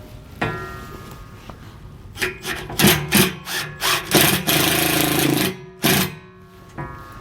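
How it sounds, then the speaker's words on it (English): A Phillips bit drives a screw into wood while a MORryde sliding cargo tray is installed on a 2020 Grand Design Momentum RV, giving a close, loud whirring drill with several short spurts and one longer steady run. "we're just going to grab our Phillips bit and run this in place"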